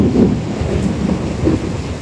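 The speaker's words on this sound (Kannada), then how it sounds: "ದೊಡ್ಡ ಸಿಡಿಲು ಬಂತು" A rainstorm brings a deep, rolling rumble of loud thunder that swells and fades in low booms over steady rain and wind buffeting.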